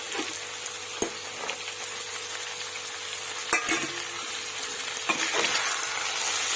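Chicken frying with green chillies and curry leaves in a pan gives a steady, close sizzle, with occasional scrapes and taps of a utensil stirring the pieces, and no talking.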